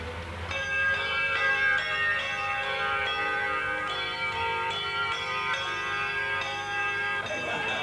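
Church bells ring continuously in a dense, overlapping peal, steady and fairly loud throughout with no talking.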